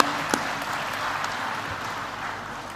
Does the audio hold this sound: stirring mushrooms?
no